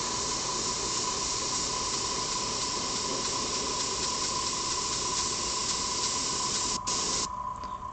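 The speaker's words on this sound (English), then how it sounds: "it's a good smooth feel when it comes out of the airbrush" An airbrush sprays paint over a stencil in a continuous, even hiss that holds steady and cuts out briefly near the end.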